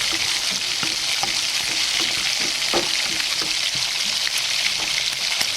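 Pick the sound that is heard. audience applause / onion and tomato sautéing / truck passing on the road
onion and tomato sautéing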